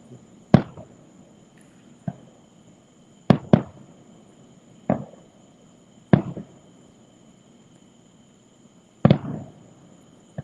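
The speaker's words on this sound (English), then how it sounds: "you have beautiful fireworks" Sharp fireworks bangs pop at irregular intervals, about eight reports over ten seconds, some doubled, with crackling tails and quiet between, from the Happily Ever After show at Walt Disney World.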